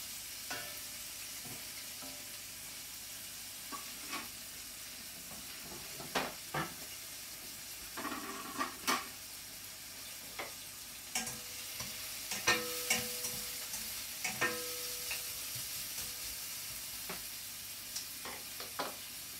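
Kofta made from ol (elephant foot yam) fry in oil in a pan with a soft, steady sizzle, broken by scattered stirring clinks and scrapes, and no talking.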